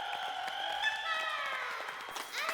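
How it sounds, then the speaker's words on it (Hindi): An audience claps in a steady patter of applause at a housing-society shayari gathering, lasting the whole stretch with a sustained tonal musical or vocal layer over it. "हो जाए तालियां हो जाए"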